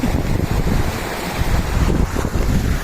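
Rushing water at the top of Hadapan Ella waterfall in Sinharaja rainforest: a steady, loud, broadband roar that never lets up and is buffeted by wind, with no voices.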